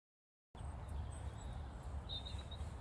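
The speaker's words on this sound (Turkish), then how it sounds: "Kuş seslerine bak." Birds singing outdoors in the wild near a caravan campsite, a few faint high chirps and a short trilling call over a soft steady background hum, starting after a half-second of silence.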